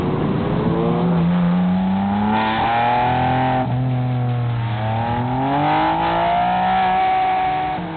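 A BMW M3 accelerates hard. Its engine note climbs loudly and steadily, then drops back at gear changes and rises again, close and continuous throughout.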